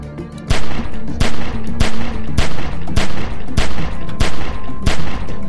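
Sustained gunfire in The Walking Dead: 400 Days game, loud, rapid, evenly spaced shots repeating throughout, close and dominant with little else audible.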